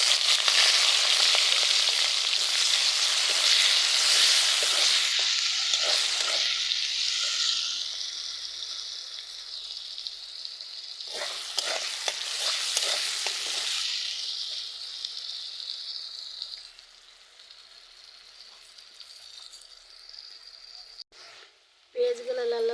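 Chopped onions and green chillies sizzle loudly in a frying pan, the hiss gradually fading and turning quieter toward the end, with a few stirring knocks.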